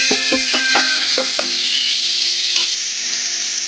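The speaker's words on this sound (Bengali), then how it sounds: "দু চারবার নাড়াচাড়া করে নিয়েছি" Vegetables fry in oil in a wok under a loud, steady sizzle, with several quick metallic scrapes and knocks of stirring early on before the hiss carries on alone, close up.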